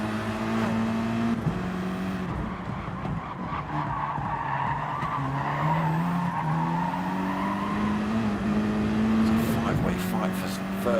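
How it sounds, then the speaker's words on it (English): Race cars in a sim-racing video game skid and tumble after a crash at the Nurburgring sprint circuit, with steady tire skidding and engine noise under continuous commentary. "Rob S and Tyre Slayer having a bit of a tumble there"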